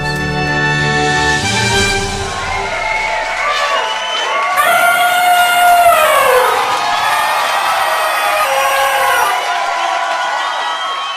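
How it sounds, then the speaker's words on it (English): A played sound effect of a large crowd cheering wildly, loud and sustained, with high whoops and shouts rising and swelling over a dense roar of applause. "And the crowd cheers wildly to the trumpeting blast of elephants sliding through eyes of needles."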